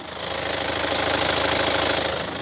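A used four-wheel-drive SUV with about 100,000 km idles with its hood open, heard close at the engine bay as a steady, slightly ticking mechanical hum with no talking.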